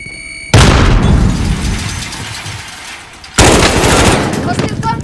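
A frag grenade blast and heavy automatic gunfire from the video game Warzone 2, two loud booming bursts with rapid shots layered under battle noise, the second starting a few seconds after the first.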